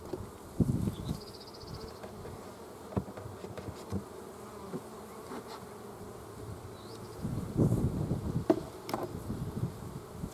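Honeybees buzz around an open hive in hot weather during a beekeeper's inspection, a steady soft droning hum with occasional louder passes of individual bees near the microphone and no talk.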